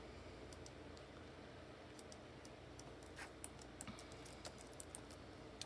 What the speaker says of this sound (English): I can just type it in, Vernita